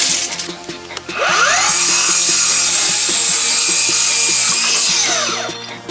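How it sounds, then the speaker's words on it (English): A power saw cuts through a piece of Hardie fiber-cement siding at a 15-degree angle, a loud sustained whine of about four seconds that rises at the start and winds down at the end, close by with no talk. "I'm going to cut the same angle right here as I cut over there, that 15-degree angle"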